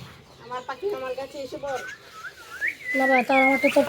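Birds give high, rising whistled calls in short bursts and one long sliding note, close by, with a voice speaking softly underneath.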